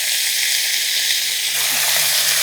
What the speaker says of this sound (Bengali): ওই জলটা পড়বে তার মধ্যে এই জলটা এবারে দেবো